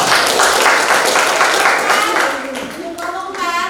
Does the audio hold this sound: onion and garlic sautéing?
no